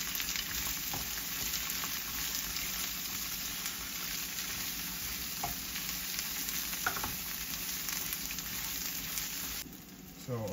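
Onion and garlic sauté in a pan, giving a continuous close sizzle with a few light clinks and stirring sounds. The frying quiets slightly near the end, and no one speaks.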